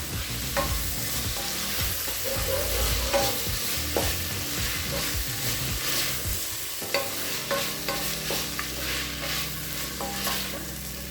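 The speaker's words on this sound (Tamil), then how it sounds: "எல்லா காயும் 2 நிமிஷம் வரைக்கும் நல்லா வதக்கிக்கலாங்க." Carrot, beans and capsicum being sautéed for vegetable biryani, a steady sizzle of frying with repeated stirring scrapes of a spoon against the pan, close and continuous with no voices.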